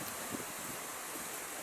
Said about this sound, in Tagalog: ang lakas ang ulan, lakas ng hangin